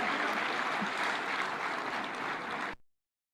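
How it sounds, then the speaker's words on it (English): Steady, even applause from a large audience at the official opening of a devolution conference in Homa Bay, a continuous wash of clapping that cuts off abruptly near the end. "A round for applause to Irungu Kangata"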